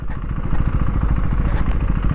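KTM Duke 390 motorcycle engine on an empty road, a steady close throaty drone with rapid pulsing firing beats and no break.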